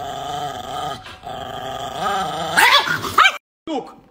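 A dog growls steadily and then breaks into sharp barks and yips near the end, loud and close, with a person talking to it over the growling.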